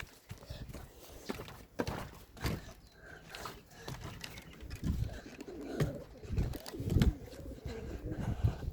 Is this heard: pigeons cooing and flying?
yes